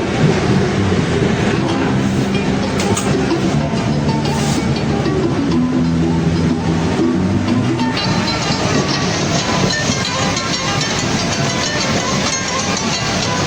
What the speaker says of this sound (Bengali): আমাদের ট্রেনটি পার্বতীপুর রেলওয়ে স্টেশন থেকে দশ মিনিট যাত্রা বিরতি শেষ করে আবারও আবারও ছেড়ে দিল সৈয়দপুরের উদ্দেশ্যে